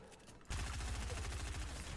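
Rapid gunfire from a Fortnite match starts abruptly after a quiet half second and continues as a dense, loud, rhythmic burst of shots to the end.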